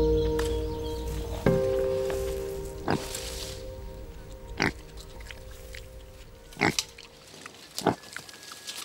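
Feral pigs on the Galápagos Islands give several short snuffling grunts at irregular intervals, fairly faint and close over a steady outdoor background hiss.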